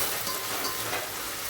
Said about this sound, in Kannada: ಈರುಳ್ಳಿ, ಟೊಮೆಟೊ, ಹಾಗೆ ಕೊತ್ತಂಬರಿ, ಕರಿಬೇವು, ಬೆಳ್ಳುಳ್ಳಿ, ಜೀರಿಗೆ, ಸಾಸಿವೆ ಹಾಕಿ ಒಗ್ಗರಣೆ ಕೊಟ್ಕೊಂಡಿನ್ರಿ ನಾನು